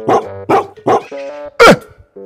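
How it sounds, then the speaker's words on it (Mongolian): A dog barks loudly and close by, four sharp barks in an uneven rhythm with short whimpering tones between them. "Энэ нохоо хуцаад байна шүү дээ юм уу?"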